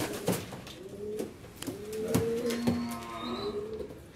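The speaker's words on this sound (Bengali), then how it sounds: "এই যে কিং কবুতর ঘুরছে, ঘুরে যায়।" King pigeons cooing close by in a loft, several low rolling coos in a steady rhythm with faint wing and background rustle, no talk.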